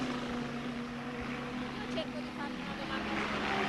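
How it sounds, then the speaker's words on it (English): Continuous rotor and engine drone of a helicopter at a 1981 Formula One race fills the scene, steady and moderately distant, with broad noise throughout. "Some by helicopter."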